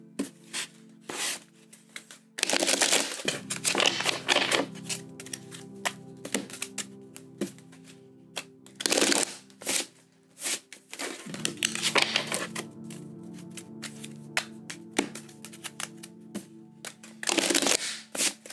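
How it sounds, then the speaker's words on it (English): Tarot cards are riffled and shuffled in repeated bursts, with soft taps and rubbing between the louder shuffles, close up and with no voices. "we're going to go ahead and do 3 shuffles"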